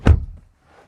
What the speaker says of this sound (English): Shoehorn my way in, close the door like so.